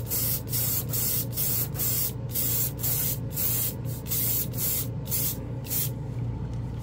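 An airbrush sprays Vallejo Game Air paint in a final coat, making a string of short, close hissing bursts in a steady rhythm, roughly a dozen pulses with brief gaps and no speech.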